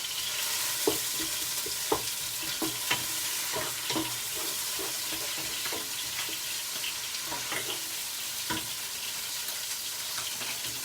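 Ground cumin paste frying in a pan for a fish curry with eggplant, a steady close sizzle with scattered pops and crackles and occasional stirring clicks, no talking.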